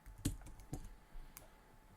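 A few faint, sparse keystrokes tap on a computer keyboard, three or four soft clicks close by in a quiet room with no talk.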